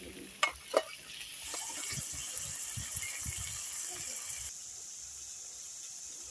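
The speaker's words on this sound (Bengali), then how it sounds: "তেল দিয়ে মাছটা ভেজে নেব, তেল দিয়ে দিলাম, চিংড়ি মাছ দিয়ে দিলাম" Prawns frying in oil in a home kitchen, a steady close sizzle with a couple of sharp clatters at the start and stirring scrapes, thinning out toward the end.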